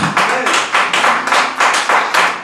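A church congregation at a Sunday service claps together in a steady, loud rhythm, about ten claps spread across a couple of seconds, with no talking over it.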